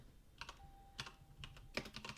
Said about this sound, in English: I love typing that in.